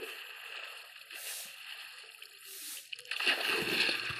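Splash of a character sliding down a waterfall in a Talking Tom forest adventure game: steady game water rush and hiss, then a louder, close sloshing splash near the end.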